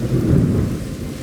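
Thunder during a hailstorm, a deep, loud low-frequency rumble that swells briefly and then eases off, heard alone with no voices over it.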